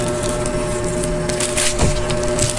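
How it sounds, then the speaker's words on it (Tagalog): A chair shifted across the floor while someone sets up to eat, giving a short woody scrape and knock near the middle, over a steady background hum. "Isod ko lang upuan."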